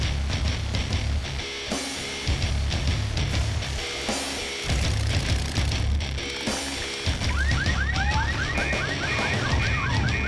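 Several car alarms go off at once in a residential neighborhood, layering cycling electronic whoops, warbles and rapid chirping patterns. The sound is loud and continuous, and no voices are heard.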